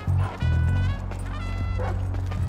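Dog barking in Grand Theft Auto V, a few sharp close barks over a steady low game soundtrack and background tones.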